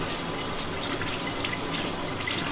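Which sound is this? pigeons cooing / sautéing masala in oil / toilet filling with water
toilet filling with water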